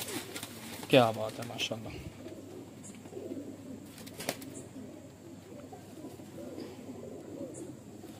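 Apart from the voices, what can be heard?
breeder pigeons cooing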